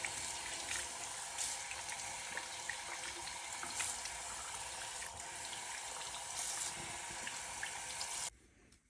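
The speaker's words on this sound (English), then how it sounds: "I think we can finally rinse her out." Running water from a tap rinses a Generation Girl doll's hair, a steady loud splashing hiss that continues for several seconds before cutting off abruptly near the end.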